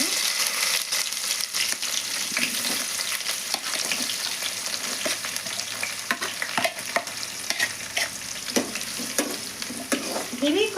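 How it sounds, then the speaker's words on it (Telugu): Onion pieces sizzle in hot tempering oil for a cabbage and chana dal curry, a close, steady, crackling fry broken by scrapes and clinks of stirring. "పోపు నేను ఉల్లిగడ ముక్కలు వేస్తున్నాను"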